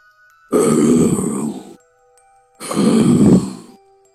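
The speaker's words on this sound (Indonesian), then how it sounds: "sebuah suara napas kasar seperti hewan besar mengendus terdengar sangat dekat" Two long, heavy, rasping breaths close up, each about a second, separated by a short pause; rough and animal-like.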